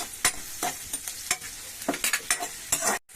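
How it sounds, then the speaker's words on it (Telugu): Slit green chillies fry in oil in a pan for a bottle gourd curry, a steady close sizzle broken by rhythmic scraping stirs, with no voices. "ఇవి కూడా కొంచెం బాగా వేగనిద్దాం"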